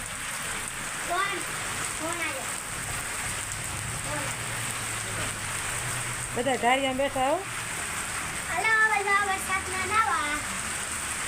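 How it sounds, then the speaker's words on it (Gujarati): Heavy summer rain pours steadily in a loud, constant roar while someone talks over it at intervals. "ફૂલે ફૂલ વરસાદ આવ્યો હો જો"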